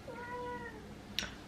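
A Bengal cat named Mimine meows once, a clear drawn-out close call with a rising then falling tone, followed by a sharp brief click.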